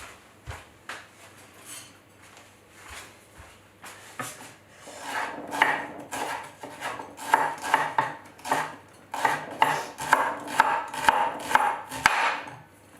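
Shallots being cut into small rounds with a blunt knife. Sparse taps at first give way to a quick, steady run of close knife strokes on a hard surface.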